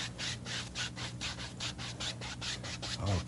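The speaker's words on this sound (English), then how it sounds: "we do this making little crisscross strokes or X strokes, just back and forth" A paintbrush makes crisscross X strokes on canvas, blending paint. The result is a soft, rhythmic back-and-forth rubbing that repeats steadily and sits close and moderately quiet.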